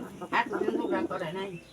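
A small group of four pigeons squabbling over food give a close, throaty cooing call that rises and falls in a couple of rolling phrases.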